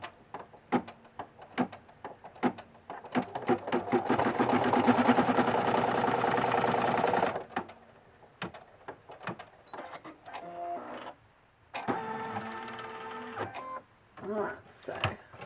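An embroidery sewing machine stitches a bunny design in the hoop, a rapid mechanical rattle that builds to a steady whirring run before stopping, followed by brief motor whines and shifts.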